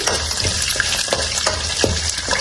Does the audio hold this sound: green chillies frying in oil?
yes